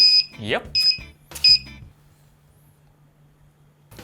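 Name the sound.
metal detector beeping while scanning a bag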